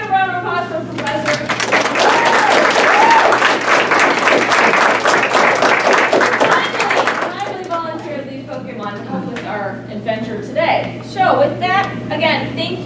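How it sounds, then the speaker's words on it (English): An audience at a Pokémon fan convention panel claps for a professor, a dense burst of applause lasting several seconds that then fades as people talk and laugh. "let's give a round of applause for Professor."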